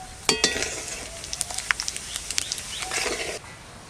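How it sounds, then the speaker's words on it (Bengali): Bay leaf, dried chilli, whole cumin and whole garam masala hit hot mustard oil in a kadai, crackling and popping in quick irregular bursts over a soft sizzle, close by. "কড়াই গরম, সরষের তেল দিয়ে দেবো তেজপাতা, শুকনো লঙ্কা, গোটা জিরে আর গোটা গরম মশলা"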